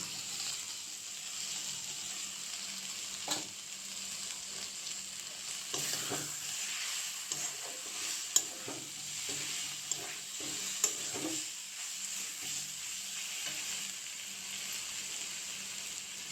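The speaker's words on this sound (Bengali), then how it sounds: "সয়াবিন ভাজা হয়ে গেছে, এখন আলু ভেজে রেখেছিলাম, এই আলুগুলো দিয়ে দেব।" Soybean chunks frying in a pan as already-fried potatoes are added, a steady low sizzle with scattered scrapes and clatters of stirring, a few sharper knocks midway, close by with no talking.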